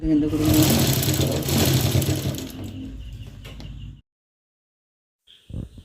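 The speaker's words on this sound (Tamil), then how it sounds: "துணியை மட்டும் கேன்வாஸை ஒட்டி இருக்கிற மாதிரி மடித்து வச்சு ஒரு தையல் போட்டுருங்க" A sewing machine runs a seam through fabric folded against collar canvas, whirring steadily and fairly loud for about four seconds before stopping, followed by silence and a brief knock.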